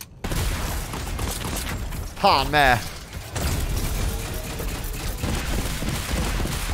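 Rapid SMG fire crackles in Fortnite as dense, continuous bursts run throughout, with a short stretch of voiced talk partway through.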